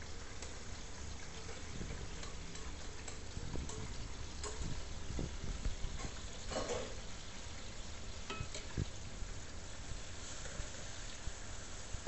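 Onion frying in a pan for Nyonya babi chin, a steady close sizzle running throughout with scattered clicks and scrapes of stirring, no voices.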